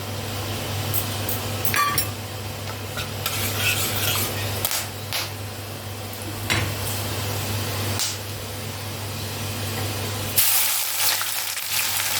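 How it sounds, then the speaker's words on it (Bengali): Whole cardamom, cloves and cinnamon sticks sizzle in hot oil for a mutton curry, a steady crackling fry with a few clinks of utensils against the pan and a sharper burst of hissing near the end. "এবার আমি ফোড়ন দিচ্ছি।"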